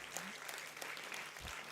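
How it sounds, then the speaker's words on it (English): Continuous crowd applause fills a convocation hall as an award winner is honoured, a steady wash of many hands clapping with faint voices mixed in. "Keep the applause going. Louder, louder."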